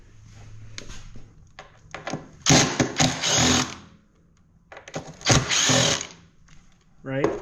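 Power tool driving out two screws from the battery box on a Can-Am XMR 700, two loud whirring bursts with ratcheting buzz, separated by quieter handling noises.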